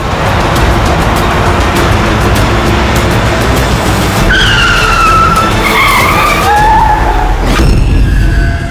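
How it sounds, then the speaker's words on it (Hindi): A car skids to a stop on a road, a loud sustained roar of engine and tire noise with sharp squealing tire chirps rising in the second half before cutting off near the end. "ये इसने गाड़ी क्यों रोक दी?"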